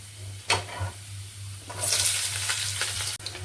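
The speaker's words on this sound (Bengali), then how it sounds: "এরপরে আমি দিয়ে দেবো হচ্ছে কুচনো পেঁয়াজ" Chopped onion goes into hot oil with garlic, cloves and whole spices for dhaba-style palak paneer. A few knocks come first, then a sudden, close sizzle swells and continues with light stirring over a low steady hum.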